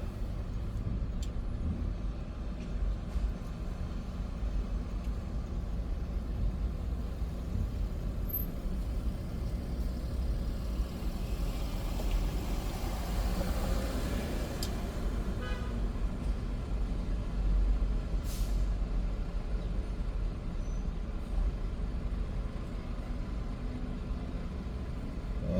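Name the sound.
evening traffic jam in downtown Seoul, cars honking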